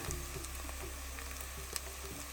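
Onions fry toward golden in a pan of hot oil, giving a soft, even sizzle with faint crackles and one small stir, quiet and close with no one speaking.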